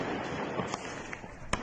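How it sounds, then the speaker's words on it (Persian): Sharp gunfire cracks and blasts ring out during nighttime street protests in Sanandaj, Iran: a few scattered reports over a steady background roar, with one loud crack standing out near the end. "صدای تیراندازی، ترکش و فریادهای اعتراضگران."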